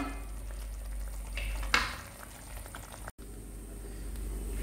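Water boils in a pot for spaghetti, a steady bubbling hiss with a low rumble, alone and fairly close, with one brief sharper splash or clatter partway through.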